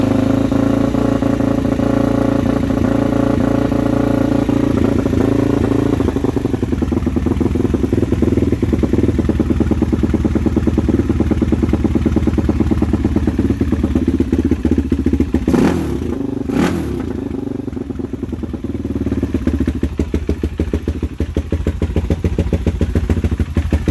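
A Suzuki LTZ400 ATV engine on a performance build runs at a high idle, a loud, continuous close-up drone with a steady rapid pulse and occasional clatter and thumps.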